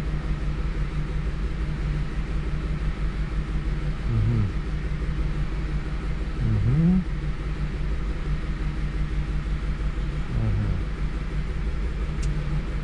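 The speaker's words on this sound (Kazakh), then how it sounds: "Көлікте 2 цилиндр жасамай тұр," A 2007 Lincoln Navigator engine idling with two cylinders misfiring, a loud continuous rumbling drone with a few brief surges, heard close with no talk.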